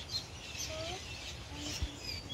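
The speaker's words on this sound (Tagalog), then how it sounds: "Ang daming ibon dyan." Faint bird chirps and short tweets from birds in a coconut tree rise over a soft outdoor background, a few scattered calls at some distance.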